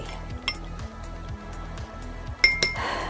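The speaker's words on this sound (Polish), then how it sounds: "Mieszam bardzo intensywnie." A spoon stirs a supplement in a glass of water, clinking against the glass in quick repeated rattles close by, ending in a couple of sharper rings.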